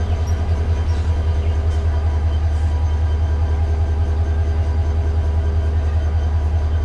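Steady, loud drone of the Dewanganj Express passenger train from Dhaka, a deep continuous rumble heard from inside the carriage with a faint rhythmic rattle, and no talking.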